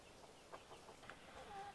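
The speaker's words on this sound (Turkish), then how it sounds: "Böyle tavuk, horoz bolca geliyor." Faint clucking of chickens and roosters at a distance, a few soft calls scattered over a quiet outdoor background at a village house garden.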